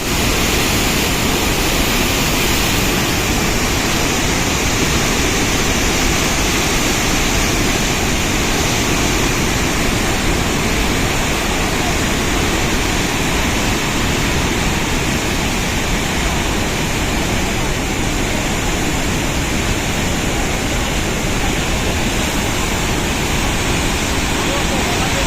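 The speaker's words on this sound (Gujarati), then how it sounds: "પરથી પડતા પાણીના ધોધનો અવાજ 10 કિલોમીટરની ત્રિજ્યામાં ગામોમાં પણ સાંભળવા મળે છે" The Dhariya waterfall near Dhanikhut, swollen with fresh water, roars in a dense, unbroken wash of noise that stays loud and even for the whole stretch, with no voices.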